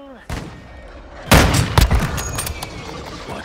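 Gunfire in Warzone Mobile: a sharp close shot, then a heavy rapid burst of rifle fire with echoing cracks that fade into quieter scattered shots.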